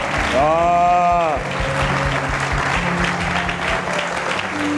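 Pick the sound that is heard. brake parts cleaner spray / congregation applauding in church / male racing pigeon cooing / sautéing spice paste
congregation applauding in church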